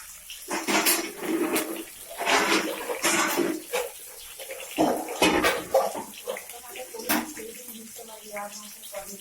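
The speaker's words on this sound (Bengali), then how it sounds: "আর এই যে আলুটা সেদ্ধ করে নিয়েছি সেদ্ধ করে জলটা ফেলে" Water poured off boiled potatoes in a kitchen, splashing and gushing in uneven bursts, close by, with a voice talking faintly in the background.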